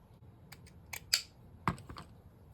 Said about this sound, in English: just cut these little dots out. Like little squares.